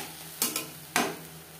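A utensil stirs tomato paste with ginger and chili in a pan, giving a few sharp, close scraping knocks against the metal over a soft, steady sizzle.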